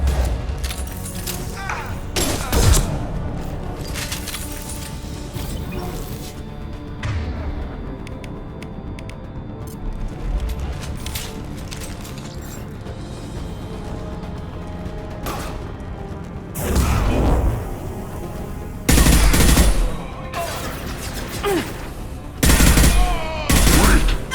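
Rapid automatic gunfire and bursts of shots from the video game Mass Effect 2, with loud thuds and crashes, sustained over nearly half a minute with heavier volleys near the end, and brief shouted voices mixed into the combat.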